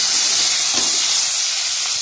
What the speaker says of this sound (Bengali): এদিকে আমার চিংড়ি মাছ ভাজা হচ্ছে